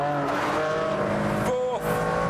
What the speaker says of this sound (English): But now the car leaps out of that corner.